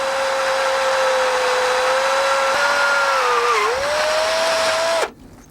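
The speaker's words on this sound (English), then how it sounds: "When you're drilling metal, the secret is to go slowly and keep a lot of pressure on." A power drill bores slowly through metal for a hinged drop-down backshop build, a steady close whine with a pitch that sags under heavy pressure, then cuts off abruptly near the end.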